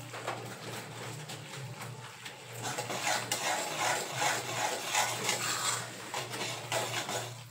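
Semolina roasting in ghee is stirred in a pan, giving a continuous scraping and rubbing sound with a steady, rhythmic texture that grows somewhat louder midway.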